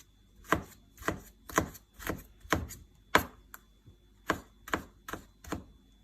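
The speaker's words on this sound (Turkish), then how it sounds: "Sebzeleri ufak ufak arkadaşlar doğruyoruz" A knife chops vegetables by hand into small pieces for homemade lahmacun, with sharp, evenly spaced strikes on a cutting board, about a dozen crisp close chops alone in a quiet kitchen.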